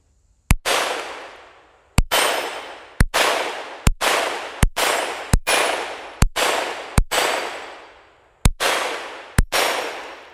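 A Ruger Mark II pistol firing CCI Copper 22 rounds: about a dozen sharp, loud cracks spaced unevenly, each with a short ringing decay, heard alone without talk.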